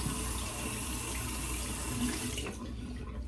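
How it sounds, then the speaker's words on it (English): A water tap runs steadily while shaving soap is rinsed off, a close, soft hiss of flowing water that shifts and thins near the end, with no talk. "You rinse off the soap."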